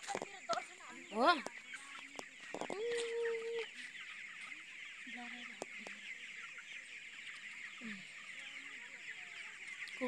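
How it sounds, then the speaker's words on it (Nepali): Chickens cluck and call inside a village poultry coop in Nepal, with a few louder squawks near the start and fainter scattered clucks after, over a steady background hiss. "कुखुरा कति 3000 छ रे यसमा"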